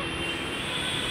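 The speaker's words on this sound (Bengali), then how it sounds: "মেট্রো এসে গেছে।" A Kolkata metro train pulls into the Kavi Sukanta station, a steady rumbling roar of rolling wheels with a high hiss, loud and continuous through the short stretch with no talking.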